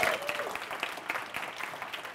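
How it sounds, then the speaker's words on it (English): Applause from a comedy club audience after a stand-up comedian's set, broad clapping wash at moderate level, fairly steady throughout with a brief voice early on. "let's give him a round of applause"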